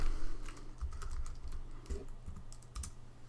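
Quick, close keystrokes on a computer keyboard as a website address is entered in a browser window, an uneven run of light clicks over a low hum.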